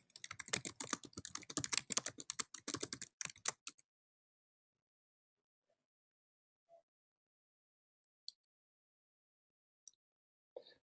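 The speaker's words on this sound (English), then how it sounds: "Let me type this in." Typing on a computer keyboard during an online meeting: a close, rapid clatter of keystrokes for about four seconds, then near silence with a few faint isolated clicks.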